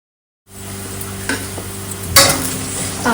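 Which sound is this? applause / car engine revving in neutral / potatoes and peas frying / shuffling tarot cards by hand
potatoes and peas frying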